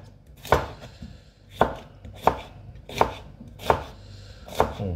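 A knife chops fish on a board for a Welsh-style sea fish solyanka, six evenly spaced firm thuds close up in a quiet kitchen.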